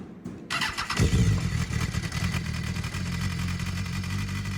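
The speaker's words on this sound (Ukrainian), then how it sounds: "Двигун, друзі, там був звук, ну просто послухайте" A BMW S1000RR sport motorcycle engine cranks and fires up, then settles into a loud, steady, throaty idle with a rapid pulsing beat.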